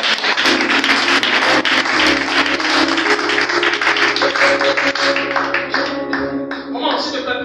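A church congregation claps and cheers in praise, loud sustained applause mixed with voices and a low musical drone underneath, the clapping thinning out toward the close.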